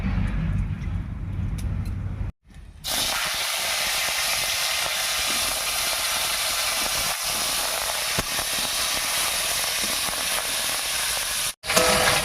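Cut potatoes drop into hot oil with whole cumin and bay leaf, and a sudden loud hiss follows a quieter opening. The frying then holds as a strong, steady sizzle, broken once by a brief drop near the end. No one speaks.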